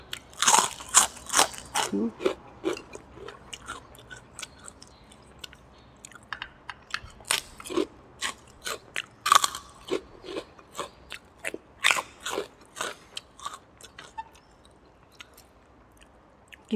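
Someone crunches through crispy potato chips while eating thin-noodle pork soup with fried garlic. Loud, close bites and chewing come in irregular bursts throughout.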